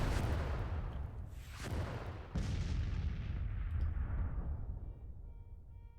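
Distant artillery fire booms and rolls out in the video game Grand Tactician, two or three heavy reports whose rumbling tails fade away, with no talking.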